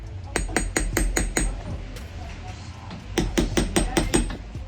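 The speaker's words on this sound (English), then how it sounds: "So we're just going to take a fine punch and hammer them through." A hammer striking a fine punch to drive heel block nails through on a boot held on a last, two bursts of rapid sharp metallic taps, about six blows each, close and loud.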